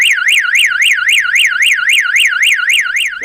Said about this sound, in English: That's the demo done of the S Series alarm system by Starline